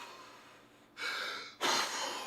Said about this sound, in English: Wim Hof breathing